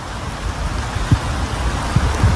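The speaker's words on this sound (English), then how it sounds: "Rain's not giving up much this time," Steady rain falling beside a river, a dense even hiss with a few heavier drops tapping close by, no voices.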